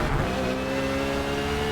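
A race car in Forza Motorsport accelerates hard out of a corner, its engine note climbing loud and close in a continuous rising whine, with no speech.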